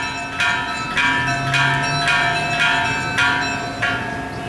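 A church bell in the bell tower of San Calixto Park in Timaná rings with regular, evenly spaced loud strikes, each leaving a ringing, shimmering decay under the next.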